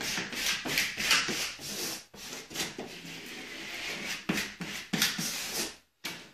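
A hand rubs firmly over a freshly applied tree decal to press it down. The result is close, soft, repeated swishing strokes in an uneven rhythm, with a brief silent gap near the end.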